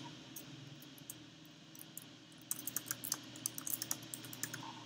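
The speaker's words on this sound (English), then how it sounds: "just type in sales this week." Keyboard typing in the second half, quick clustered clicks over a steady low background hum, moderately close and fairly faint, with no voices.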